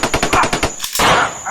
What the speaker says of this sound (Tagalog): Baril.